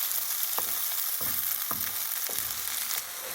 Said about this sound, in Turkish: Şimdi biberimizi dahil ettik. Bir miktar daha kavuruyoruz.